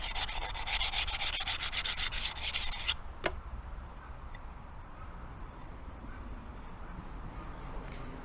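A cut tile edge is smoothed with higher-grit sandpaper: steady, close rasping strokes run for about three seconds, then a sharp tap and a long quiet stretch of faint room noise.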